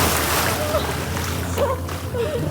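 Water splashes and sloshes close by during a relaxing swim in a hotel pool in Thailand, a continuous churning wash with soft gurgles throughout.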